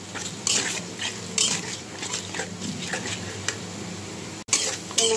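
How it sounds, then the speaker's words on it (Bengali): A spatula clatters and scrapes around a pan as turmeric, coriander powder and salt are sautéed for a shol fish and small-potato curry, with irregular metallic knocks over a low background hum. "মশলাটা আমি ভালো করে কষিয়ে নেব"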